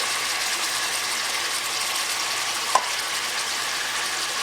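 Steady, even sizzling of beef frying in a pan, with one brief click partway through.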